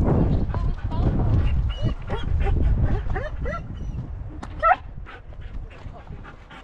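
A dog on a hiking trail whimpers and yips in short, uneven bursts with a few soft barks, close by, while people speak over it.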